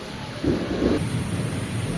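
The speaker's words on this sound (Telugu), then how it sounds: "వడగండ్ల వాన దంచి కొట్టింది అరగంట నుండి" Steady hailstorm rain pours down with a low, rumbling roll of thunder underneath, continuous and fairly loud throughout.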